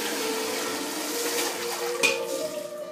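Cardoons being scrubbed in a water bath: a continuous close swish and slosh of water with small splashes and one brief louder splash near the end.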